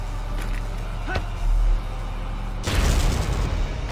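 Mortar fire and explosions in the Valkyria Chronicles Remastered video game: two heavy booms, the second broader and rumbling, over a continuous low game background.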